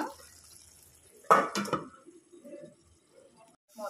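A metal lid clanks down onto a cooking pot of stuffed eggplant curry, a sharp close clatter with a quick rattling follow-up, then faint kitchen clinks in a quiet room.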